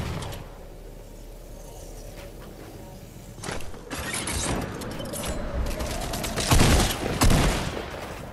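Video game gunfire in a trio world cup match, opening with a quieter mechanical stretch before bursts of shots crack in, growing louder and denser with several sharp loud blasts near the end.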